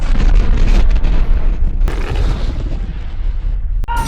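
A catalyst bomb detonates inside a virtual reality game world in a movie, a loud sustained explosion with deep rumbling that rolls on for several seconds and never fades out.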